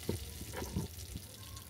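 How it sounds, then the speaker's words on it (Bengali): Cauliflower and potato pieces fry in oil with turmeric and salt, a faint low sizzle with soft stirring bumps, quiet and close, with no talking. "এর মধ্যে ফুলকপি আর আলুটাকে লাল লাল করে ভেজে নিচ্ছি।"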